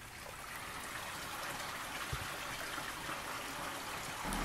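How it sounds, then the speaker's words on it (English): A small outdoor stream pours out of a little culvert, giving a steady, moderately faint trickling rush with one brief low thump midway. "I found a stream that comes out of a little culvert there."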